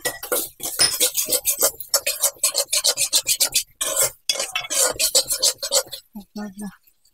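Ginger garlic paste stirred in a pan on high flame, rapid rhythmic scraping and rasping of a spoon against the metal, loud and close, continuing for several seconds before fading out.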